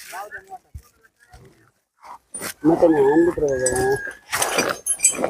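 Roosters crow loudly nearby, one long drawn-out call, mixed with a person talking and other background farm noises.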